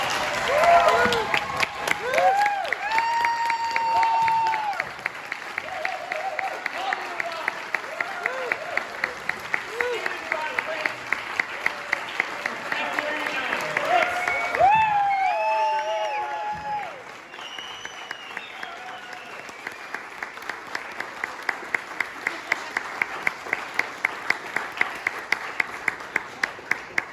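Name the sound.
audience applause and cheering at PuppetCon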